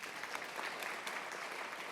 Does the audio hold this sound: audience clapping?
yes